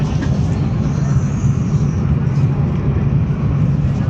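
Steady, dense low rumble and rushing hiss of a fast passenger train heard from inside a carriage in Italy, bound for Florence, constant throughout with no clear voices.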